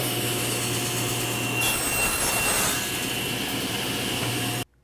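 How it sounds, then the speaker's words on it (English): A table saw rips a thin wood strip down to 1/8 by 1/8 inch using a GRR-RIPPER push block, the motor's steady whine joined by a rising gritty cutting rasp midway before the sound cuts off abruptly. "Let's go ahead and rip it down again to 1/8 by 1/8,"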